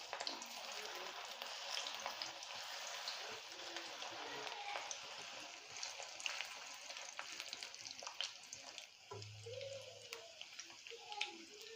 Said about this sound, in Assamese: এয়া এতিয়া তেল গৰম হৈ গৈছে ইয়াত এতিয়া মই এই ফুলকবিখিনি দি দিম